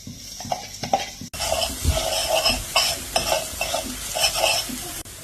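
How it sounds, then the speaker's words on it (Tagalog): Plenty of garlic frying and being stirred in a pan, a steady close sizzle with scraping and clinks of a utensil against the pan, briefly cut off before resuming. "Start na tayo magluto, guys. Ito muna natin ang garlic."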